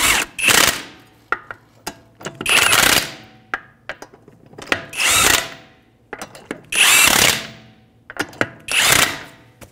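Impact gun with a 21 mm socket snugging lug nuts on a 2015-2019 Hyundai Sonata, close and loud, firing in five separate bursts of roughly a second each, with short clicks and clanks in between.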